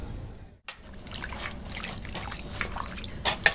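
Water trickles and splashes steadily while prawns and chicken meat are rinsed outdoors in a village kitchen, after a brief pause near the start, with faint clatter and no clear talk.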